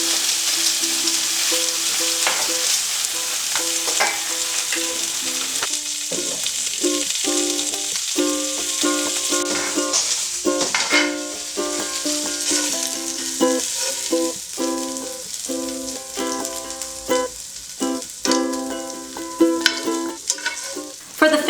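Pulled pork stirred and fried in a hot pan, a steady close sizzle with scraping utensil strokes and clatter throughout, no talking.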